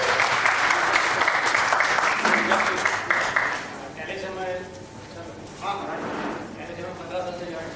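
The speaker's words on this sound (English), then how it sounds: "Round of applause, people." An office crowd at a corporate rewards and recognition ceremony claps loudly for a few seconds, then the clapping thins out as people begin talking nearby.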